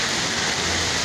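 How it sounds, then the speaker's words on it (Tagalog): Heavy rain pouring hard and steady, a dense, loud hiss of falling water filling the whole moment without pause. "Wala, lalong lumakas po ang ulan."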